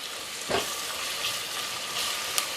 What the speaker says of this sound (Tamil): போட்டு இந்த பச்சை வாசம் போகிற வரைக்கும் நல்லா வதக்கி விட்டுடலாம்.